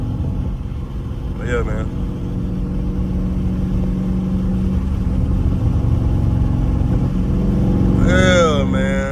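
A Scat Pack car drives through traffic, its engine a steady low drone heard from inside the cabin. A voice cuts in briefly at the start and again near the end.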